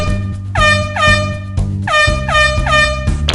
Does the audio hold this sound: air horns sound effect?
yes